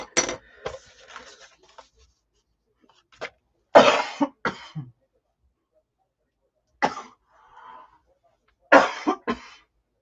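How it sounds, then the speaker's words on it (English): A woman coughs in several sharp bursts spaced across a quiet room, a few close and loud, with faint throat clearing between them. "I get hot and then I cough."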